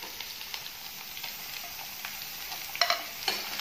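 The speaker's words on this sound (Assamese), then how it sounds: "বিলাহীখিনি দি অকণমান গলি যোৱালৈকে ভাজিব লাগিব" Soft, even sizzling of tomatoes frying in a wok, with a couple of sharper spatula scrapes toward the end.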